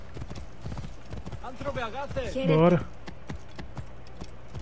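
Rhythmic hoof clip-clops of a galloping horse in Assassin's Creed Origins, steady and close throughout, with a horse's whinny in the middle and someone speaking briefly.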